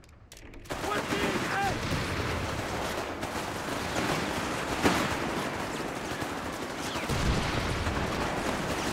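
Foot guard infantry in Company of Heroes 3 open fire on Grenadiers at close range, a dense, continuous crackle of rifle and automatic gunfire with a few sharper reports poking through the steady roar.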